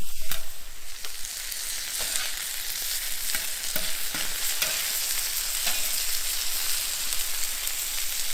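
Noodles stir-fried with spatulas on a large XXL plancha brasero give a steady, loud sizzle and crackle throughout, with occasional scraping clicks from the spatulas and no talking.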